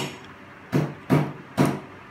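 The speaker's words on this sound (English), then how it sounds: "Sorry about the noise, mom's chopping stuff behind" Three heavy, evenly spaced thuds of a knife chopping food on a board sound from the kitchen behind. Each blow is solid and slightly muffled, with short pauses between strikes.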